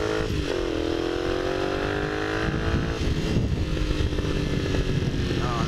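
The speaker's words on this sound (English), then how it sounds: "This is my show-off bike, so you know. This bloody thing sounds mental." A Honda CX motorcycle engine runs loudly and steadily close by, a continuous droning idle with slight rises in pitch, while someone talks over it.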